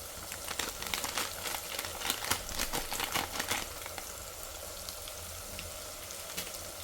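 Spices, turmeric, coriander, chilli and sambar powder fry in a pan for radish sambar, a close, steady crackling sizzle that is busiest early on and then settles to a softer hiss, with no voice.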